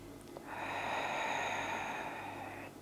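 A single long, deep breath taken during a beginner's full-body Pilates stretch, a close, steady airy rush lasting about two seconds in a quiet room, with no talking.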